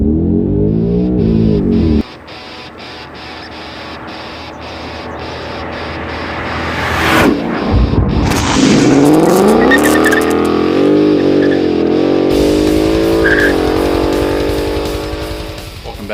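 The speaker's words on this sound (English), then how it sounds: "we can't have a part of the Stop the Hop kit without doing a little 0 to 60" A 2015-2020 Ford Mustang GT fitted with a Steeda Stop the Hop suspension kit idles, then revs hard and launches 0 to 60 on a warm day. The engine roars loudly with rising pitch through the gears, and tires squeal briefly.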